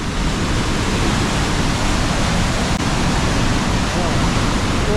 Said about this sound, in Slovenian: Zdaj gremo pogledati še en čudovit slap grlja.